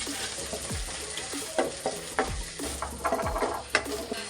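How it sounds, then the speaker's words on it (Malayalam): Soya chunk fry with tomato sauce and soy sauce being stirred in a hot pan, a steady sizzle broken by repeated scraping strokes of the spoon, close and fairly loud with no voices. "അത് നന്നായിട്ടൊന്ന് മിക്സ് ചെയ്ത് കൊടുക്കാം"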